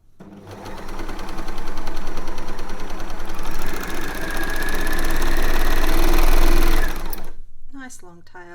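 A sewing machine stitches through several layers of fabric in a long continuous whirring run, loud and close, then stops abruptly, followed by a brief moment of a voice talking.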